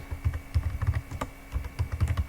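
Quick, irregular clattering of keys on a computer keyboard, close and clear, in two short bursts of typing with no speech.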